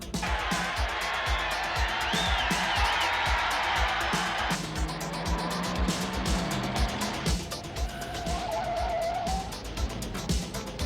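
Car engine roaring and tyres screeching during a film car chase, loud and continuous with a rising whine, under music and a busy mix of sound effects.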